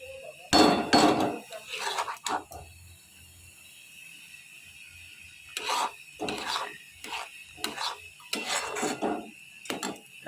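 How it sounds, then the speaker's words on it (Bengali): Spoon scraping and stirring fried spice masala with cashews in a pan over medium-high heat, a series of dry rasping scrapes in bursts with pauses between, close and fairly loud. "সেটা সমানে আপনাদের নাড়াতে হবে"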